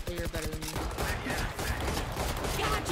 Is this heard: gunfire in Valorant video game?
yes